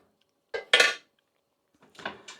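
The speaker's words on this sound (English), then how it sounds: "we're going to put in the meatballs into that now" A couple of close clinks and clatters as meatballs go into a pan of sauce, one sharper knock followed after a pause by a softer scrape and tap, otherwise quiet.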